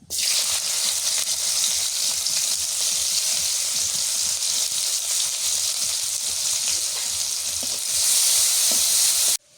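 Chopped onions frying in oil in a village kitchen, giving a steady, loud, close sizzle throughout that swells slightly near the end, with faint stirring and no talk.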